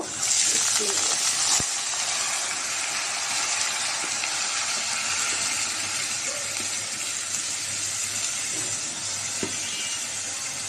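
A continuous hissing sizzle of red lentils frying in oil with fried onions, steady throughout, with a few faint clinks and quiet handling sounds.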